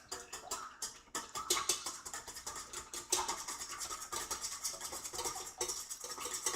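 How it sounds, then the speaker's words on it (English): Eggs are whisked in a bowl for brownie batter, a quick, continuous scraping and clicking of a whisk against the bowl at close range, fairly quiet and steady, with no talk. "I'm just whisking the eggs before I add in the sugar"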